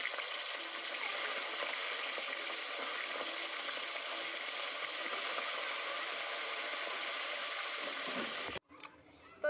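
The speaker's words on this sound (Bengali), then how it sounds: "তো দেখো আমার তেলটা গরম হয়ে গেছে আমি এবার এই মাছগুলিকে দিয়ে দেবো" Fish sizzles loudly and continuously in hot oil in a home kitchen, a dense steady frying hiss that cuts off abruptly near the end.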